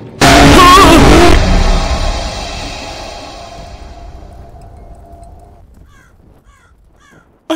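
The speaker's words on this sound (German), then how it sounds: "Nein, ein Vogel, oh Gott, wie grausam." A crow caws loudly and harshly at the start of a scene in the horror game Rise of Insanity, then eerie ambience lingers and fades, with a sudden sharp hit at the very end.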